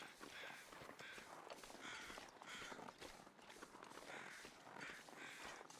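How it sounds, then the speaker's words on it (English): Crows caw overhead in The Long Dark video game, faint repeated calls over a continuous rustling, crunchy ambient background. "It's got to be flyover crows."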